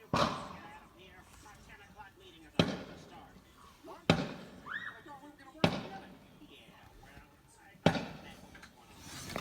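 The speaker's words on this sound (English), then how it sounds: "I can see the fireworks from my window." Fireworks go off outside on bonfire night, heard from indoors. Sharp, distant booms come about every two seconds, with people talking in between.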